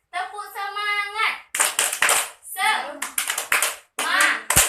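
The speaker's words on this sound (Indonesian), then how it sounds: "Kita akan melakukan tepuk semangat." Children in a classroom clap a quick rhythmic chant, bursts of sharp hand claps alternating with a woman leading sung call phrases, close and lively over several cycles.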